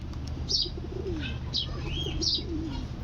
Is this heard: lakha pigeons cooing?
yes